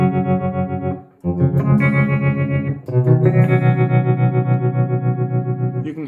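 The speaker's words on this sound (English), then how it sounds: "You can hear that characteristic tremolo effect." Electric guitar run through an STM32-based digital tremolo effect at about 75% depth, playing sustained chords whose loudness pulses in a steady slow wobble, close and loud with a brief gap between strums.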